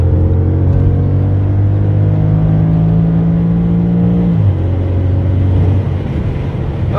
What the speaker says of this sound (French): Je vais appuyer au taquet, ça va rétrograder en mode sport